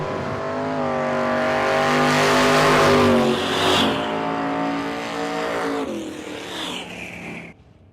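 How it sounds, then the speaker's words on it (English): Two red Chevrolet Camaros idle and rev loudly side by side on a no-prep drag strip starting line at Ozark Raceway Park, engines droning with rising throttle blips, then the roar fades and cuts off near the end. "Pair of red Camaros on the starting line."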